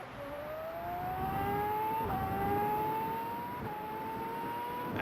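A car engine in Farming Simulator 22 winds up through the gears, a rising whine that climbs, drops at each shift and climbs again, steady and fairly quiet with no talk.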